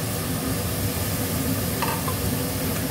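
Ginger, garlic and chilli paste hits frying mutton in a pan, giving a steady, close, loud sizzle with faint stirring clinks, no voices.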